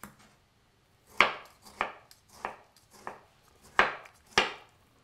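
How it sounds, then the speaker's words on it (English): Tomatoes get chopped on a board with a knife, six or seven sharp, separate thuds in an uneven rhythm, close and clear against near silence. "The next step is I'm going to chop the tomatoes."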